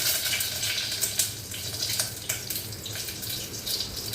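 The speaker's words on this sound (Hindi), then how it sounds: "अब मैं इसमें ये कड़ी पत्ते डाल रही हूँ।" Curry leaves hit hot cooking oil already holding cumin seeds, giving a continuous close sizzle broken by brief crackling pops.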